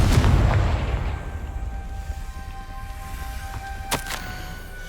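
Confringo fire spell explosion in the Hogwarts Legacy video game, a loud deep boom at the start that rumbles away over a few seconds, followed by a smaller sharp pop, with no talking.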